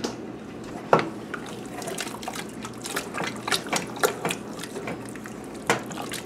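Chili being stirred around in a pot with a spatula in a home kitchen, giving soft wet scraping and clicking strokes in an irregular rhythm, close and moderately quiet.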